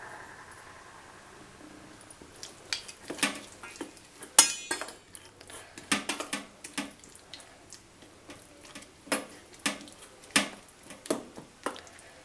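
Onion pieces stirred by hand into spicy Telangana-style tomato chutney in a bowl, giving a run of soft, wet, squelching scrapes and clicks in an irregular rhythm, close and fairly quiet with no talking.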